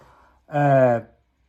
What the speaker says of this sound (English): My cat's saying hello there.